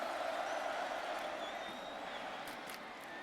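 Large stadium crowd at a 2006 college football game between Oregon and Cal in Berkeley, roaring and cheering steadily throughout at a distance, with no break.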